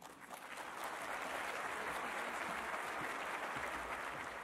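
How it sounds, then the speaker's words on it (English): Sustained applause from a seated audience at an architects' service awards lunch, a dense, even patter of many hands that swells in the first second and holds steady throughout. "keep the applause going for John."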